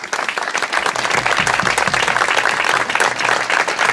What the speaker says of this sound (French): Je crois que les élèves de l'école de Fèvres méritent un bel applaudissement.